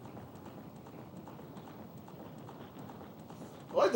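Horse hooves gallop in The Legend of Zelda: Ocarina of Time, a steady rapid clip-clop rhythm, soft and even under game background, with a brief louder burst at the end.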